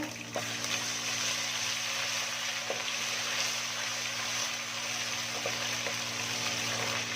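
Ginger garlic paste sizzles steadily in a pan with browned onions, a continuous close frying hiss with a few faint clinks, no voices.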